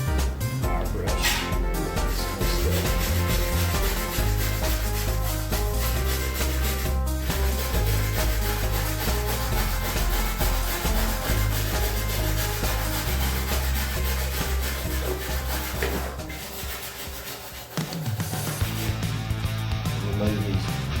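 A wire brush scrubs across the welded sheet metal of a 1957 car fender patch panel, a loud, continuous rasping rub held close for most of the stretch before briefly easing near the end.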